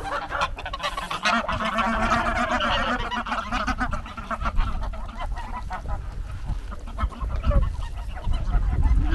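Geese honk repeatedly and loudly at a farmyard in a village in the Eastern Rhodopes, a steady chorus of overlapping calls close by with no talk over them.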